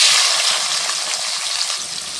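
Onions dropped into hot oil left from frying potatoes produce a loud, steady hiss and sizzle close to the microphone, continuous throughout and with no voices.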